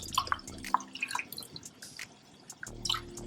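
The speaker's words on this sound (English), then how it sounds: "And the chicken stock, like I said, is not necessarily needed. I just add a little bit. So we're gonna pour some of that" Chicken stock splashes into a pan in short dripping, splattering bursts, fairly close, with brief pauses between pours and a low kitchen hum underneath.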